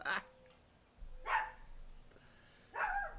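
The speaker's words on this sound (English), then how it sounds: "the Chihuahua outside is barking, and hearing the Chihuahuas inside barking" Chihuahuas barking, three sharp separate barks spaced about a second or more apart, with some dogs indoors and one outside heard through an open window, moderately near against a quiet room.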